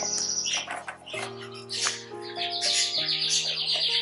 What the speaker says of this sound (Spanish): También hay son unos periquitos, y bueno, a mí la verdad me encanta el cantar de las aves.